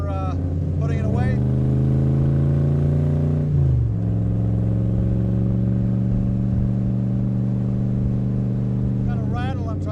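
A loud 1965 Shelby Cobra engine runs steadily close by with a deep, continuous rumble; its pitch dips once partway through, and a faint rattle may sit under the noise. A voice speaks briefly over the engine.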